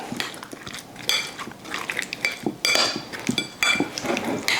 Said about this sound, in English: we're just gonna give this a little stir, a little fold